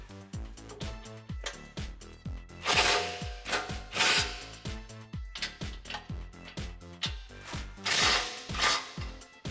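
A ratchet works loose the front bumper bolts on a Jeep Wrangler, giving repeated fast clicking bursts in a steady rhythm, close and clear, with a few louder rasping pulls mixed in and no talk.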